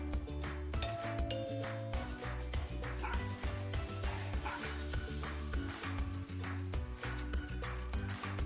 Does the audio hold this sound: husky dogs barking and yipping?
yes